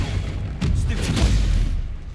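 Stupefy spell cast in the Hogwarts Legacy video game, a dull booming whoosh and impact lasting about a second amid low rumbling game ambience.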